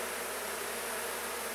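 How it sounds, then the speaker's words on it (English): Honey bees swarm around an open beekeeper's hive, producing a constant, dense buzzing hum that fills the air close by, steady and unbroken for the whole moment. "when the bees start coming up and start bouncing off your veil"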